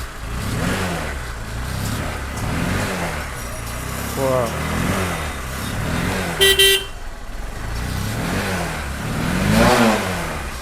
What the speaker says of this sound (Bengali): এটা সাউন্ডটা শুনিয়ে দিই, জাস্ট টাচ করলে গাড়ি স্টার্ট।